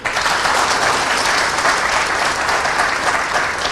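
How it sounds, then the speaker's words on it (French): Loud, dense applause from a large audience at a national party convention of the MND in 2020, steady and sustained throughout with no pause. "Chers militants du MND, applaudissez."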